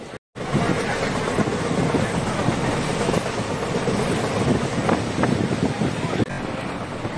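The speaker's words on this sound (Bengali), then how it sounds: "ট্রেনটা এত জোরে চালিয়েছে" A fast train rattles along with steady rhythmic clatter and rushing wind buffeting the microphone, loud and continuous after a brief silent start.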